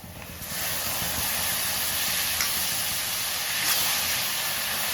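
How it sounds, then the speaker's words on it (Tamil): Tomatoes and onions sautéing in a pan for egg curry, heard as a steady, dense hiss and sizzle that starts after half a second and stays even and fairly close to the end. "தக்காளியும் நல்லா வதங்கிட்டேன்"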